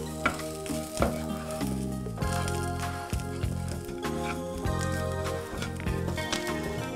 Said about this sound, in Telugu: ఒకసారి అన్ని వేయించి మనం బ్లెండ్ చేసుకుందాము.